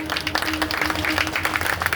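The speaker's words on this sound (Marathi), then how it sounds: "प्रत्येक शिलेदारासाठी जोरदार टाळ्या वाजवा" A crowd at a fort-model exhibition on a temple ground in Dombivli claps loudly: a brief, continuous wash of applause with a faint steady tone humming underneath.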